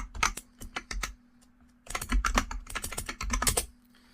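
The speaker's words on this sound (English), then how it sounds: "So if I type nmap with the target server," Someone types an nmap command on a computer keyboard, giving close, crisp key clicks in two quick flurries separated by a short pause.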